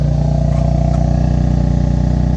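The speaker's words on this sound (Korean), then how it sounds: "M 버튼을 누르게 되면 가변 플랩이 열리면서 웅장한 배기 사운드를 들려주고 있네요" Hyundai N performance SUV exhaust with its variable flap open, a loud, steady low-pitched drone with a deep rumbling pulse, sustained and close throughout with no talking.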